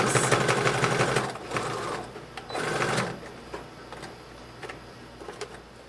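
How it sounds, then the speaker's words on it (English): A sewing machine runs a zigzag stitch along a raw fabric edge of a baby sling, a fast steady mechanical whir that surges in bursts and then settles to a lighter rattling hum. "And now I'm just zigzag stitching right along this raw edge"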